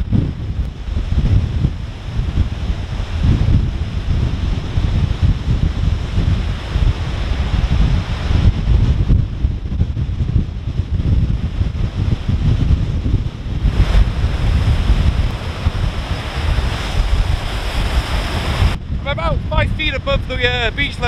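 Strong wind of about 80 km/h buffets the microphone over a constant roar of crashing Lake Erie waves during a fall storm, loud and continuous throughout.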